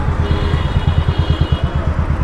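A motorcycle ridden slowly into a railway station to park, its engine thumping in a steady, fast low pulse, close and fairly loud, with a faint clatter over it.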